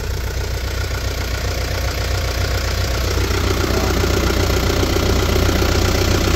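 The diesel engine of a 1994 JDM Mitsubishi Canter fire truck idles after a cold start, a loud steady clattering rumble heard up close without pause.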